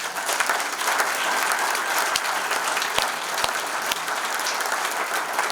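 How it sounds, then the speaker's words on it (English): Audience applause at a Hall of Fame evening ceremony, honoring the presenting sponsor, Herzog: steady, dense clapping from a large crowd fills the whole stretch, loud and continuous without a break. "how about one final round of applause for our presenting sponsor tonight"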